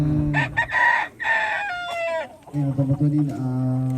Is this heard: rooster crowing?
yes